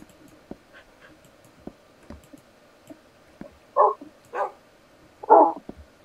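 A dog in the video game Minecraft gives a few short, separate barks and yips, moderately close, set against a quiet backdrop of light clicking sounds.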